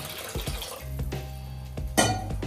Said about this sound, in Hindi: तो आधा कप पानी और डाल देते हैं